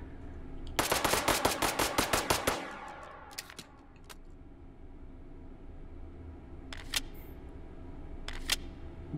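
Akimbo .22 LR pistols fire in a VR shooting game, a rapid burst of a dozen or more crisp, light shots, then a few isolated pops later over quiet background, with no speech.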